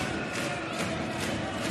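Volleyball arena crowd cheering, a steady roar of many voices filling the hall with rhythmic swells, loud and sustained throughout.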